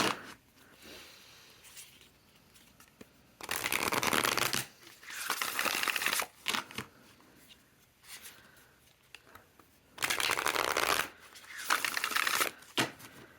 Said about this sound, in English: So we'll go ahead and shuffle these bad boys.